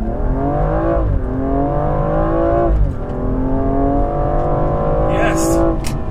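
A 2014 BMW M235i or Lexus IS F is floored from a standstill, its engine note climbing through the gears with a short dip at each shift. The loud, steady acceleration runs the whole time, and a voice joins in near the end.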